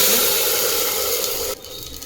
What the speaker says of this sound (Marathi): खडे मसाले परतले की त्यामध्ये पाणी टाकू।